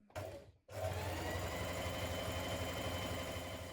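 A sewing machine runs long gathering stitches along a fabric piece for a vintage spring dress, starting with a short burst, pausing briefly, then whirring steadily and close without stopping.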